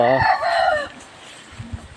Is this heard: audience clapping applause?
no